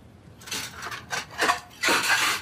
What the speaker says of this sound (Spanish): Toma, coge los cubiertos.